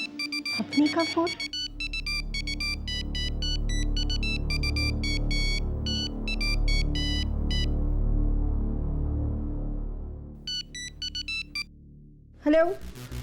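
A phone ringtone chirps in repeated bursts of bright electronic tones over a low, sustained dramatic background score, falling silent for a stretch and then ringing again.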